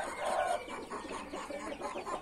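A black hen in a poultry yard clucks repeatedly in short, fairly close calls, restless as she looks for a spot to lay, with no talk over it.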